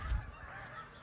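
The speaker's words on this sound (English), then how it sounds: "pardon the geese." Geese honking outdoors, a short burst of nasal calls heard at moderate distance and fairly faint, with no talking.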